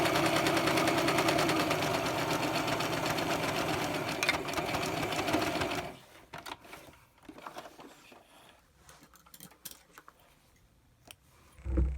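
Sewing machine running steadily as it stitches around the edge of reusable baby wipe fabric, a continuous close whirring for about half the time before stopping, followed by quiet handling noises and a brief bump at the end.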